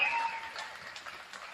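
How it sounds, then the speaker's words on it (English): An audience at a high school basketball game applauds a group of senior powerlifters. The clapping is steady and dense, fairly faint and distant, and thins slightly as it goes on. "Let's give them all a big round of applause."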